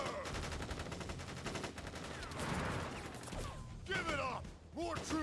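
Soldiers fire guns in the video game Crisis Core: rapid automatic bursts crackle at first, then scattered shots follow, with voices shouting through the firefight.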